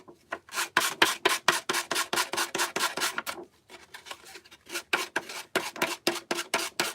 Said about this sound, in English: let's just take our sander and we'll just go around and sand off the excess